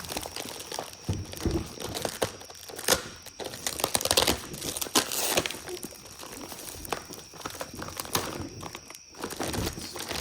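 A new turbo with its anti-surge housing is pulled out of a plastic bag, giving soft, irregular crinkling and rustling at close range with occasional sharper crackles, fairly quiet throughout.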